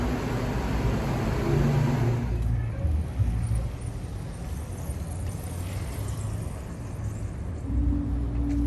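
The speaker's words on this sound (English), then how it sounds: "traffic's really bad, guys." Road traffic in Atlanta rumbles steadily around a car, a continuous low drone of passing vehicles that eases off midway and then swells again.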